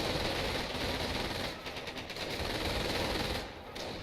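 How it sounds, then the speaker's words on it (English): Machine gun fire in the World War II strategy game Company of Heroes, set in a battle for Paris: sustained dense rattling bursts with scattered gunshots, steady and loud throughout the few seconds, with no voices. "getting pushed back by a Man Who Sold the World and a machine gun set up over here"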